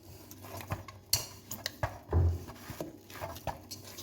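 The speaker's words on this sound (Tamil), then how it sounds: "இப்போ எண்ணெய் ஊற்றிட்டு மறுபடியும் நல்லா பரட்டி ஒரு பிசைஞ்சிக்கிடுவோம்." Samosa dough is kneaded with a little added oil in a bowl, giving soft irregular squelches and pats with light clinks and one heavier thump, quiet and close.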